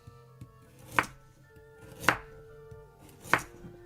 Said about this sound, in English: For the carrots, I always like it if the cuts are very irregular, so I always do this zigzag cut, like so.